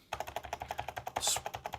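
Fingers type quickly on a computer keyboard, a close, even run of about fifteen light clicks at a steady rhythm with no talking over them.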